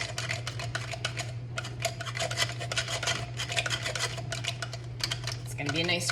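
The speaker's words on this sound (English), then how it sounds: "I'll give this a stir." A utensil scrapes and rubs steadily through sauce in an enameled cast iron pan, a close, continuous stirring rasp over a low kitchen hum.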